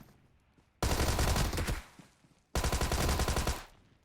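Two bursts of rapid automatic gunfire in the battle royale game BGMI, each lasting about a second with a short pause between them, loud and close.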